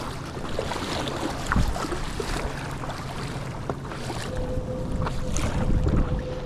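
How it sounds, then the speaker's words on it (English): Steady wind buffets the microphone over open water on Mountain Island Lake, with a low boat hum and splashing waves, gusts swelling louder toward the end. "These wind gusts are killing me though"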